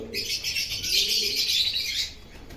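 A Giribaz pigeon, a confirmed male, coos and chirps steadily up close, a bright continuous run of calls with a faint flutter, fading near the end.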